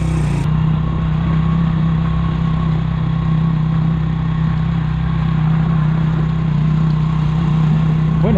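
A motorcycle engine runs steadily on a cold, rainy mountain road, producing a loud, constant mid-pitched drone with a strong hum and no noticeable changes in revs.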